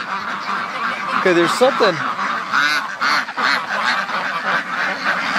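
Ducks, including Muscovies, let out in the morning on a hot summer day, with honking goose-like calls from geese alongside, a few close quacks and honks in a short burst amid steady yard noise, while a person talks over them.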